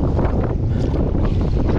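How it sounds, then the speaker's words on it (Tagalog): Heavy wind buffets the microphone in a constant low roar with gusty fluctuations. "Lakas ng hangin."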